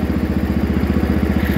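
A Wheel Horse 312-8 lawn tractor engine chugs steadily while the tractor drives, a loud, close, rapid mechanical pulse that stays even throughout with no voices.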